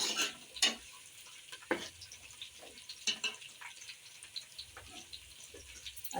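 Onions and green chilies fry in a pan with a quiet, steady sizzle, broken by several sharp scrapes and knocks of a spoon stirring against the metal.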